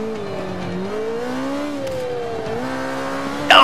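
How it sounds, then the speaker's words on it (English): A car in Forza 5 slides out of control, its engine droning steadily with wavering pitch as revs rise and fall, loud and continuous with no talk over it, ending in a brief harsh burst. "Oh, I lost control of my car!"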